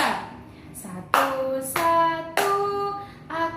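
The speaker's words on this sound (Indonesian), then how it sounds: "Yuk, kita nyanyi sambil tepuk tangan ya." A class sings a children's song in a microteaching lesson, clapping hands in time, with several sharp claps falling at the start of sung phrases, moderately close.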